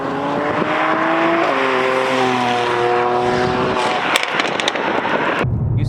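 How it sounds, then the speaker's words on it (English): A Mercedes-AMG C43 with an AMG sports exhaust, its engine droning loudly and close as it revs and shifts, ending in a sharp cut-off with a few crackles near the end. "this one comes with an AMG sports exhaust on it"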